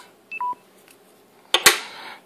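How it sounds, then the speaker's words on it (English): A battery's low-battery warning: two short electronic beeps, one higher then one lower, followed by a sharp clattering burst a second later. "that's the sound of my battery about to die"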